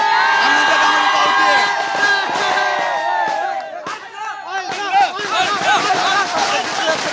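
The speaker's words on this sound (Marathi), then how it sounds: "मुरलीधर मोहोळ यांच्या कार्यालयाच्या बाहेर जल्लोष सुरू झालेला दिसतोय कार्यकर्ते जे आहेत ते आनंद साजरा करतात" Party workers cheering and shouting outside Murlidhar Mohol's office in Pune, a loud close crowd of whoops and celebratory cries with overlapping voices.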